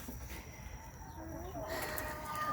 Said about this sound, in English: these chickens are 17 weeks old